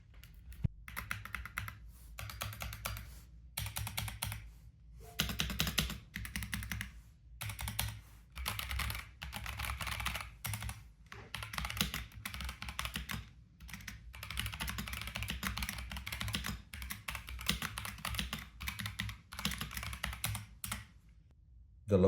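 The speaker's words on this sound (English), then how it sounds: "The Lofree does sound really good for a low profile keyboard." Steady typing on a Lofree Flow low-profile mechanical keyboard with phantom switches, producing soft, quick clacks in continuous bursts with brief pauses, close and clear with no talking.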